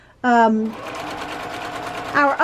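A sewing machine stitches a seam in a wonky checkerboard row of a sampler quilt, making a close, steady mechanical whir. A voice speaks briefly at the start and again at the end.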